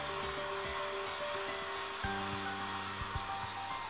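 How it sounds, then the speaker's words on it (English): A blow dryer runs steadily to dry a special effects burn-wound mask, giving a constant close whooshing hum with a faint tonal whine and no talking. "use a blow dryer to dry until mask is set"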